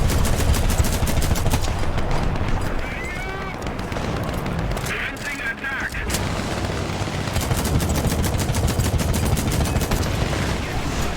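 Rapid game gunfire rattles in the War Kitten video game, dense machine-gun bursts and booms continuing loudly throughout, mixed with energetic voices talking over the action.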